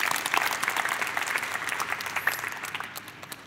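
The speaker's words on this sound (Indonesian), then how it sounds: "Tepuk tangan." A church congregation claps together in steady, dense applause that holds strong at first and then thins and fades toward the end, with no talking over it.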